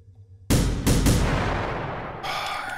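Pistol shots in The Final Station: three sharp, loud shots in quick succession, each with a long decaying reverberant tail, followed by a brighter background hum and no speech.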